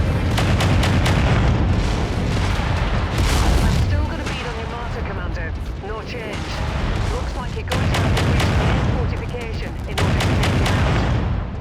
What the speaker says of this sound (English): Stop shooting me with those missiles.